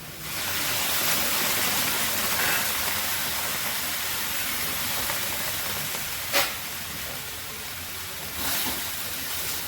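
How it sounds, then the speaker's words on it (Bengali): Water poured into a hot pan of soybean and potato curry sizzles with a steady, loud broadband hiss of steam that persists throughout, with a couple of brief sharper spits. "এবার আমি জল দিয়ে দিলাম।"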